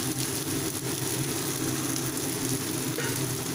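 Turmeric, cumin and Kashmiri chilli powder fry in a spiced masala for a rohu fish curry, a steady loud close sizzle that holds without a break, with no voices.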